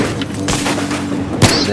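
Gunfire in the Battlefield 3 campaign on PlayStation, heard as a dense background of shots with one sharp, loud report near the end, all under continuous game sound and talk.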